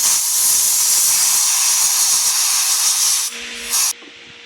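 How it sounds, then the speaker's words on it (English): Compressed air gun blasting a loud, steady hiss into hollowed wood, then cutting off, briefly bursting again and stopping. "an air gun like this really is your friend"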